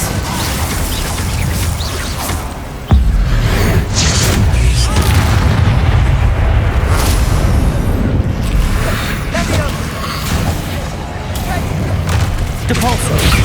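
Blasting-spell explosions in the Hogwarts Legacy video game, with a sudden loud boom near three seconds followed by a continuous dense barrage of crashing, splintering impacts and game effects.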